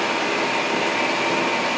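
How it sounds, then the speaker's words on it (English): A 620 hp John Deere 9620R tractor pulling a 60-foot seed drill at about 9 mph drones steadily at a loud, constant level, a broad mechanical roar with a faint high whine on top, no voices. "The tractor is running at just over 9 miles per hour across the field, pulling this big 60-foot drill."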